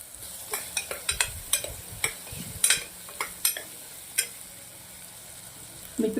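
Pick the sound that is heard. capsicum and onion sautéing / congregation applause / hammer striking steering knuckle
capsicum and onion sautéing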